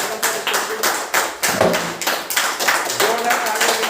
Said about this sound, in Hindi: जोरदार तालियों के बीच में हमारे दिनेश सर